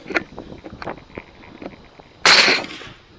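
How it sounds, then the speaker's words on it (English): A gunshot fired while hunting hogs, one loud sharp report near the end that rings out briefly after softer scattered clicks and knocks. "He's actually shooting the same hog."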